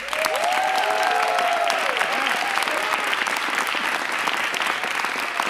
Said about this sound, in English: I'm going to shout you each out here, and you can applaud with energy